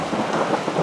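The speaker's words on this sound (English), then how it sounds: "hello, thunder" Thunder rumbles through steady rain during an outdoor storm, a dense low roar filling the brief moment at fairly loud level with no voices.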